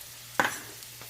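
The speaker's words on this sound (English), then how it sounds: "I like to keep it moving and stir it to keep it from burning" A brief scrape of a spoon stirring a spinach mixture in a hot pan, with a soft sizzle trailing off afterward, heard alone and fairly close.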